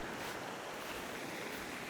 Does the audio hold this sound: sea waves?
yes